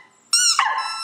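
A single short, high-pitched dog yelp or whine, sharp at onset and trailing off, in an otherwise quiet room.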